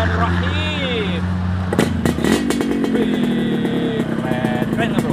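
A Yamaha RX-King two-stroke motorcycle revs up hard close by, its engine note climbing and sweeping over steady idle, with people talking over the noise.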